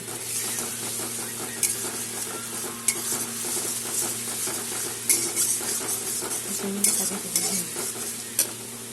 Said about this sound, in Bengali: ঝাল লঙ্কার গুঁড়া আর আধা চামচ হলুদের গুঁড়া দিয়ে দিলাম। এখন এটা কষিয়ে নিব